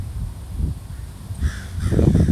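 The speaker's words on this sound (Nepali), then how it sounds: "काग कराइरहेछ" A crow cawing near a stream, several harsh caws, the loudest near the end, close by over low rumbling background noise, no talking.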